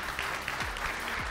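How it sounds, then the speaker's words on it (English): A conference audience at a 2019 data center industry event in Montreal claps for a panel of speakers: steady, dense applause from many hands, fairly close and sustained for the whole short stretch, with no talking over it. "Let's give our panelists a big round of applause one more time."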